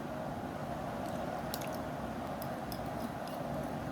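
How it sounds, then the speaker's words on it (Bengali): A hand mixes gram flour with water into a batter, giving soft, wet squishing and squelching sounds over a steady, fairly quiet background, with a few brighter clicks scattered through the middle. "জল দিয়ে মেখে নেব ভালো করে।"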